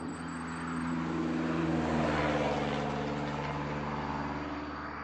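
An automatic water pump on a cattle farm running with a steady motor hum and a broad whooshing swell that rises and then eases, fairly close, with no talking.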